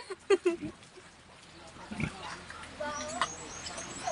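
A large pig on a rural hillside farm gives a few short grunts near the start, then quieter snorts follow as people talk in the background over outdoor ambience.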